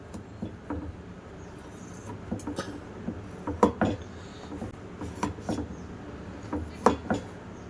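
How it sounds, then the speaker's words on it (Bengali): A knife worked around the sides of a baked chhena cake to free it from its tin, giving soft scattered scrapes and light metallic taps, close and fairly quiet over a low room hum. "এবার আমি সাইড দিয়ে ছুরি দিয়ে তুলে নেব।"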